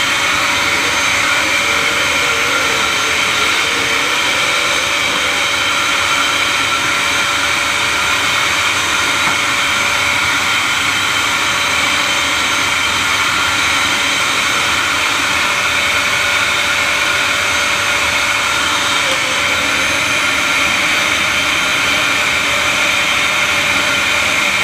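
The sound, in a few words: Dyson vacuum cleaner blowing air to dry hair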